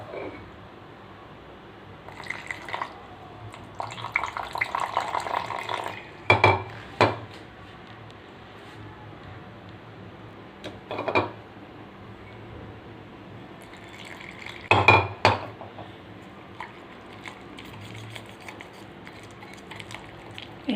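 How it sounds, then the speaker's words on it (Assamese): Paneer is mixed in a bowl with salt, chili powder, pepper powder and ginger-garlic paste, giving scattered scraping and clinking of a utensil against the dish, with a few louder knocks between quieter stretches and no speech. "অলপমান নিমখ, চিলি পাউডাৰ, অলপমান জালুকৰ গুড়ি আৰু এই আদা নহৰুৰ পেষ্টখিনি দি এইখিনি মিক্স কৰি লম"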